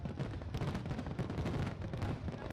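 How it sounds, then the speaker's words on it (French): New Year fireworks over Abidjan burst in a dense, continuous crackling barrage, with volleys of rapid pops and deep rumbling booms blending into an unbroken roar. "Des jets de feux d'artifice au son de rafales illuminaient le ciel abidjanais"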